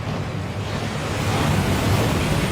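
At Gringotts in the video game Hogwarts Legacy, a waterfall roars as a steady, loud, broadband rush of falling water with no pauses and no talk.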